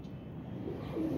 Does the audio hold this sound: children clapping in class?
no